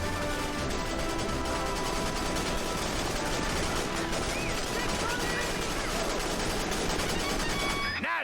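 Dense video-game gunfire from Battalion Wars, rapid overlapping shots and mechanical clatter in a continuous loud barrage with constant battle noise throughout.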